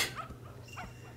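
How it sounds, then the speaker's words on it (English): A small dog character in Yo-kai Watch 4 lets out a few quiet yips and whimpering barks over a low game background hum. "No, Dabiwan, don't bark!"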